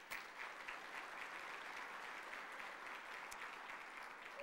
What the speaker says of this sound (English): let's give a round of applause to Vector Communications